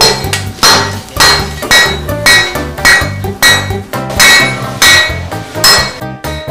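A blacksmith in Chishang, Eastern Taiwan, hammers a steel blade: loud, steady metallic strikes with bright ringing overtones, about two blows per second, repeating evenly throughout with no talking.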